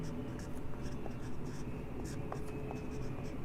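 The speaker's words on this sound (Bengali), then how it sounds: "আমি একটু লাল কালি দিয়ে লিখবো অবভিয়াসলি" A pen writes in red ink on paper with a light, quiet scratching in short, irregular strokes against a soft, hissy room background.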